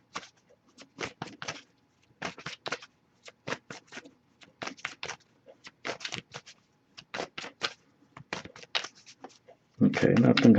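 Repeated bursts of cards being riffled and shuffled, about a dozen quick crackling runs separated by short pauses, close up, with a louder rustle at the end.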